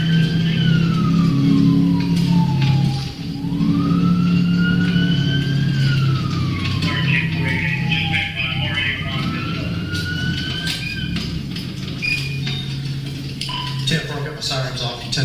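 A police siren wails loud and close, its pitch sweeping up and down in repeated slow cycles, with truck engine rumble and radio chatter underneath.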